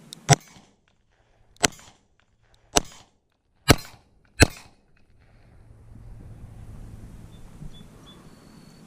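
Five sharp, loud gunshots from a Smith & Wesson 360 PD revolver fired at a man-sized target about 13 yards away, spaced roughly a second apart, each with a short ring, followed by quiet outdoor background.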